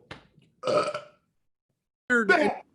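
An actor on stage in a reading of Doctor Faustus lets out two loud, throaty burps, a short one followed by a longer, rougher belch after a pause, heard alone without other talk.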